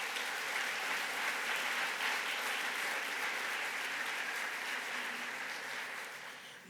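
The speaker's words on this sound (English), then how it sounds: "Let's give it one more round of applause for Mario, please." Sustained audience applause after a conference talk fills the room, steady and fairly loud for several seconds before gradually tapering near the end, with no voices over it.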